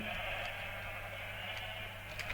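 A sheep bleats in the Minecraft video game, a faint, thin call held over a steady background hum with no talk.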